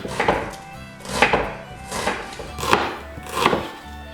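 Knife finely slicing onions on a chopping board, five rhythmic bursts of chopping strokes about a second apart, close and clear with no talk.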